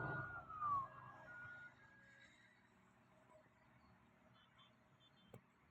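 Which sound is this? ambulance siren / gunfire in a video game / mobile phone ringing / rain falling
ambulance siren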